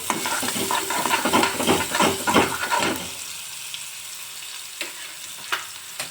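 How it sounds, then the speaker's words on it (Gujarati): Loud sizzling of finely chopped onions frying in hot oil with repeated stirring scrapes for about three seconds, then a quieter steady sizzle with occasional clinks. "હું અડધા કપ જેટલી હું ઝીણી ચોપ કરેલી ડુંગળી એડ કરીશ હવે એને ગોલ્ડન બ્રાઉન સુધી હલાવી લઈ"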